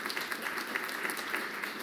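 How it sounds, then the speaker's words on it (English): A round of applause from an audience at a housing policy convening, a steady, moderately quiet patter of many hands clapping with no voices over it. "Let's give them a round of applause for that"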